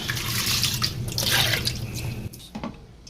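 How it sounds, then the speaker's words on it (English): Rice being washed in water before parboiling, a continuous close splashing and trickling of water that stops abruptly near the end, leaving a few faint knocks. "I like to wash my rice before I parboil"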